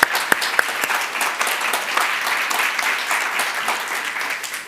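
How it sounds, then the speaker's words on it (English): Audience applause welcoming speakers onto a panel at a festival talk, opening with a few sharp individual claps and then swelling into steady, dense clapping that fades at the end. "Please welcome them with a round of applause."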